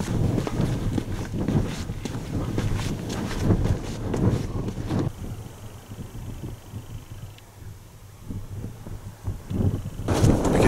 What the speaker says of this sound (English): You can always tell because the wind gets stronger.